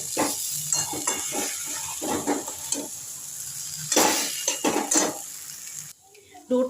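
Sweet potato dough being worked together with milk powder in a pan, a run of busy scraping and stirring strokes with a dull background hiss, occasional louder knocks against the pan, and a voice talking over part of it.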